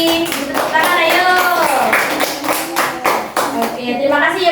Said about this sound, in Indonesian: Beri tepuk tangan, ayo.